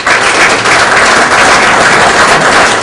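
A dense, continuous burst of loud applause from an audience at a formal launch event honouring an ambassador, with no voices standing out.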